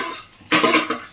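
A spatula scrapes and clatters against a pan while eggs are stirred in with potatoes, one brief loud metallic scrape after a quiet moment, up close.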